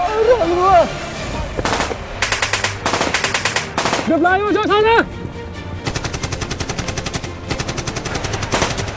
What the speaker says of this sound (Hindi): जब उन नालाज को क्रॉस करना स्टार्ट किया तो ऊपर पीक के ऊपर से उनके ऊपर फायर आना स्टार्ट हुआ।